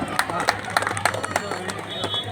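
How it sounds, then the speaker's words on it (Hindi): A small group claps at a local public works inauguration in Hanuman Nagar, Thane, sharp scattered handclaps in a loose rhythm, with a voice talking over them. "ताली बजाओ ताली"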